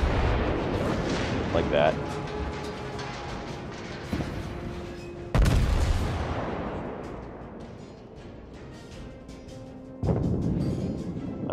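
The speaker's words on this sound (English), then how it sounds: "continuing to take hits from enemy big guns" Naval gunfire in World of Warships around a U.S.S. New Mexico battleship, BB-40: heavy booming big-gun salvos and shell hits crash repeatedly, loud and close, over a rumbling bed of battle noise, with someone talking briefly.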